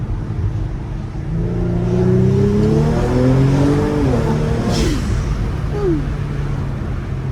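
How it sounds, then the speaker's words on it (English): A catless twin-turbo V6 car with DC Sports downpipes and MBRP exhaust accelerates in sport mode through manual shifts, its exhaust note rising and dropping over heavy wind noise from open windows. "So, I'm pretty happy with the DC Sports downpipes and the MBRP exhaust."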